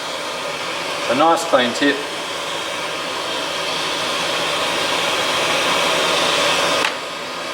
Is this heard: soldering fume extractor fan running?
yes